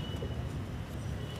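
A pigeon coos softly in a low, murmuring tone against steady background noise, brief and fairly faint.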